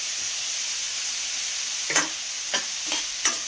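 Green chili and salt frying in a pan with onion, a steady soft sizzle and hiss joined by three sharp scraping stirs toward the end.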